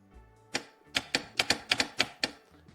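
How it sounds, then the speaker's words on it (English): Sharp clicks from a golf cart solenoid being switched on and off, about eight crisp snaps in an irregular run, close and clear against a quiet background. "Hear that click?"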